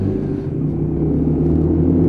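A motorcycle rumbling past on a road, a steady low engine drone that swells slightly louder toward the end, heard close with no talking.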